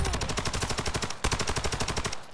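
Rapid bursts of automatic gunfire from a video game extraction match, loud and close, with a brief gap midway before the firing resumes.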